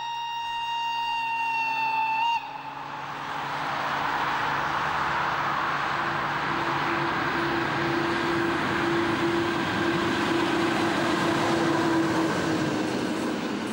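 A German E94 Krokodil electric locomotive hauling a freight train south on the Garmisch-Partenkirchen to Mittenwald line, first a steady whine and hum, then a loud, sustained rolling roar of wheels and wagons passing close by, with no talk.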